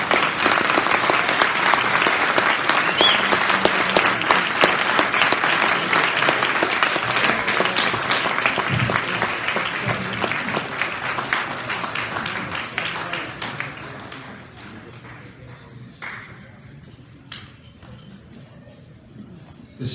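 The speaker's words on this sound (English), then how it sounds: "You can applaud." Audience applause at a military ball for District 218 cadets, steady dense clapping from a large crowd that gradually thins and fades toward the end.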